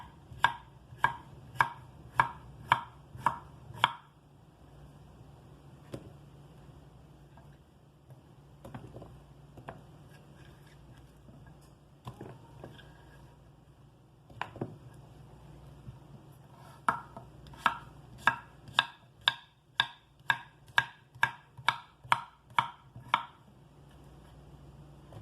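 A knife chops chicken into bite-sized pieces on a cutting board for homemade caldo de pollo, rapid bursts of sharp, evenly spaced taps at the start and end, with quieter scattered cuts between.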